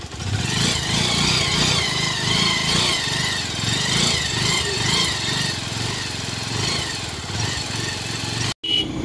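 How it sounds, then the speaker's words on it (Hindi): A motorcycle engine runs steadily while riding along, a loud continuous buzzing drone with slight rises and dips, close to the listener, broken by one brief dropout near the end. "इस वक्त छोटा मुंडा चलाता है बाइक"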